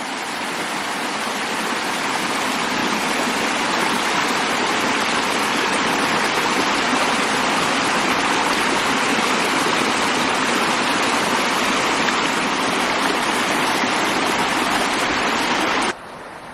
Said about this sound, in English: That's a beautiful creek. This is very clean water.